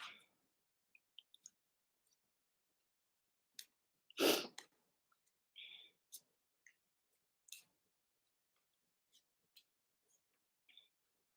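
Tarot cards are shuffled close and quietly in scattered soft riffles and taps. One brief louder burst of card noise stands out among sparse clicks and near-silent gaps.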